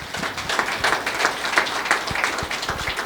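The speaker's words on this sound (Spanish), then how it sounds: "Fuerte aplausos, Iglesia de Cristo." Church congregation clapping during a Quechua-Spanish service, a loud, steady round of applause filling the room for about three seconds with no talking.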